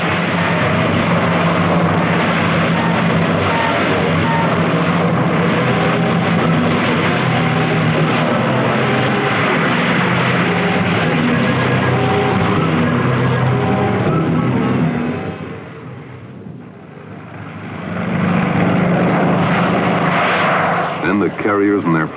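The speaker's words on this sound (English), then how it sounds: "when these B-25s took off in weather that wanted to" World War II B-25 bombers taking off from the aircraft carrier Hornet in rough weather, April 1942: a loud, sustained roar of piston aircraft engines, briefly dipping near the end before swelling again, with a narrator speaking over it.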